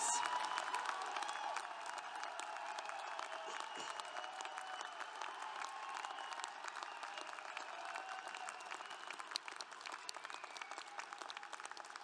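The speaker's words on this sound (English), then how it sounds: "Give them one more round of applause." Applause and cheering from a commencement audience as graduates stand, a steady wash of clapping with scattered whoops, sustained evenly and heard from a distance across a large hall.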